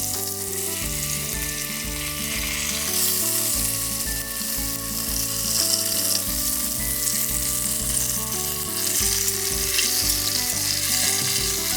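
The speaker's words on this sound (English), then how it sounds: "you may need to hold it up to get all the sides during the searing" A large beef rump roast sears in a pot for Italian braised beef, giving a loud, steady sizzle and crackle that runs unbroken throughout with no voices.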